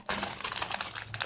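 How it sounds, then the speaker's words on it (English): A plastic bag of cloves being opened by hand, a brief burst of close, sharp crinkling and crackling that runs unbroken for about a second. "I always wind up tearing the bag"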